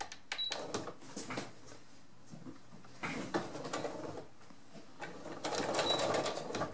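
Domestic sewing machine stitching a small backpack, running in short bursts forward and back to lock the seam, with faint clicks and pauses between runs, fairly quiet and close.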